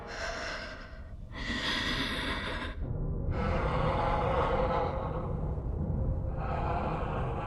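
Heavy, mechanical breathing through a dark helmet in The Acolyte, slow drawn inhales and exhales that repeat in a steady rhythm, loud and close with no talk over them.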